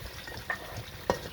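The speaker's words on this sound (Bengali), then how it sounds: "আমি এই যে আমটা ভাজে তুলবো এখন। হয়েছে, আম ভাজা হয়েছে।" Green mango pieces fry in a pan with a soft, steady sizzle, broken by two brief scraping stirs of a utensil, close and quiet with no talk.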